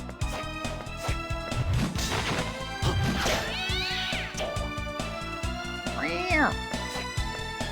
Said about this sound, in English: Apologies for sad cat noises for a minute.